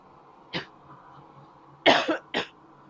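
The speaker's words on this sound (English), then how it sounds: "It helps when you don't cough directly into your lav mic" Several close coughs land straight into a lapel microphone: one short cough, then a pause, then a heavier double cough and a final quick one.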